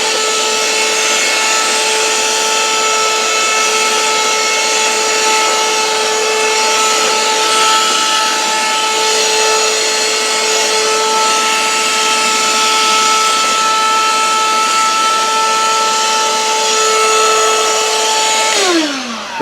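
Handheld cordless vacuum cleaner fitted with a crevice-style spreader tool, sucking up dirt: a loud steady whine with a constant pitch that runs on alone and then drops away as the motor is switched off near the end.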